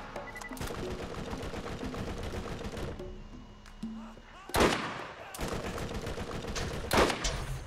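Gunfire in Borderlands during a boss fight, rapid bursts of shots crackling over game sounds, with a pause and then heavier blasts near the end.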